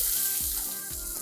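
Finely chopped onions going into hot oil already seasoned with cumin, carom and asafoetida for a cluster bean curry, giving a steady close sizzle and crackle with a couple of brief splashy bursts, no voices.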